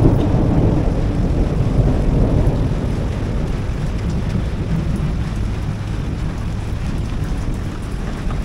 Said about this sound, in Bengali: মেঘ ডাকছে এখনও আকাশে।